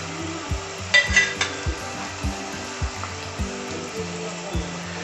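Herbal hair oil with garlic simmers over a flame, giving a continuous hiss with soft, regular bubbling pulses and an occasional light clink of a utensil.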